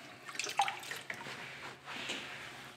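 Water from a bucket is wiped with a rag onto the fender of a Nissan Hardbody D21 truck, heard up close as faint splashes, drips and wet rubbing in uneven bursts.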